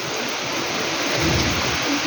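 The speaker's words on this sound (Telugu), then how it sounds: "బయట చాలా చల్లగా గాలి పైగా వర్షం కూడా వస్తుంది" Steady broadband hiss of rain with a low rumbling wind underneath, continuous and fairly loud throughout, no voices.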